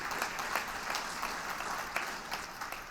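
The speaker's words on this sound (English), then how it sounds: "giving yourselves a round of applause" An audience at a business event applauds with a moderate, even clatter of many hands; individual claps stand out at a distance, and no one speaks over it.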